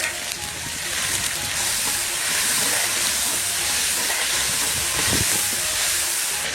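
Chili bean paste stir-frying in hot oil for a braised lamb hoof dish, a steady loud sizzling hiss filling the space with faint clatter of the wok underneath.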